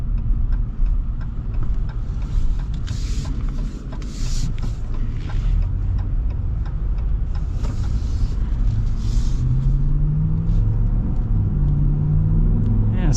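A Ram 1500 Rebel pickup with a naturally aspirated V8 and an 8-speed automatic, heard from inside while driving as a smooth, steady low engine rumble with road noise, rising slightly toward the end.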